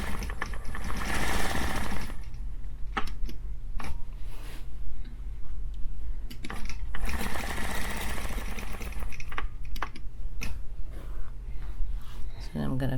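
A sewing machine stitches an ogee quilt border, running in long steady whirring stretches broken by brief pauses, with a person talking over the machine noise.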